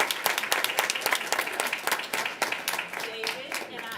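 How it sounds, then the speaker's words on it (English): Audience applause at a school board meeting, a dense run of many hands clapping at close range that carries on steadily and thins slightly toward the end, with voices mixed in underneath. "we want to applaud you as well"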